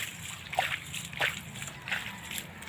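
Irrigation water washes into a cucumber garden, with irregular splashes and sloshing close by in a steady rhythm.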